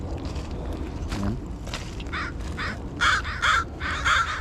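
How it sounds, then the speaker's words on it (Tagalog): Crows caw repeatedly, several clear caws in quick succession near the end, over steady outdoor noise and water sounds by a shoreline crab trap. "Nag-aabang na yung uwak."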